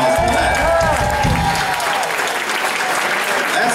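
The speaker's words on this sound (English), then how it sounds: "How about a big round of applause for that?" Loud applause from a crowd at a rock camp show, filling the whole stretch, with some voices and cheering mixed in and a sustained tone early on.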